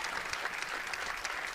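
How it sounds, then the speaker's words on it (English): A crowd gives sustained applause at a high school girls' basketball game on senior day, steady clapping that fills the gym at moderate volume throughout. "she's getting a great hand right now from the crowd"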